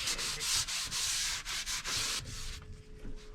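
A cloth rubs oil onto the wooden surface of a boat under restoration, making close, loud swishing strokes in a quick uneven rhythm that fade to a quieter rub at the end.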